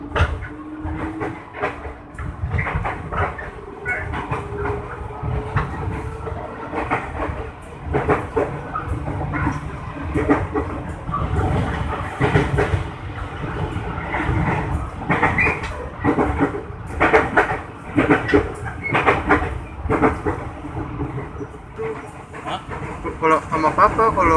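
Aboard a JR 205 KRL Commuter Line electric train departing Cawang station, a loud steady rumble with rhythmic wheel clatter and rising motor hum fills the ride, while people talk over it.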